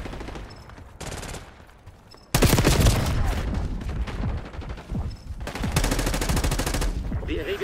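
Bursts of Call of Duty gunfire, rapid automatic fire in loud rattling volleys with a short quieter stretch between them, one steady machine-gun stream dominating the second half.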